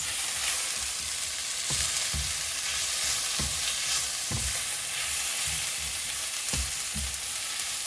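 Egg, hash browns and bacon sizzle in a breakfast skillet as a spatula stirs them. Constant frying crackle runs throughout, broken by regular scraping thumps about every second or two.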